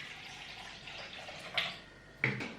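Water is poured into a cooking pot while kadhi is being made, a soft quiet trickle punctuated by two brief splashes, with no voices.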